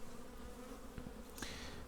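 Honeybees at a hive in April give a steady low buzzing drone that runs throughout, with a couple of brief louder knocks or bumps near the end. Nobody speaks.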